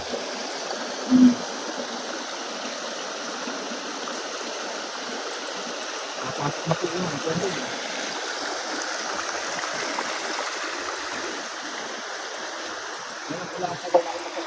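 Steady rushing of a swollen, storm-fed stream, a constant watery hiss with a few faint bumps and a brief tone early on.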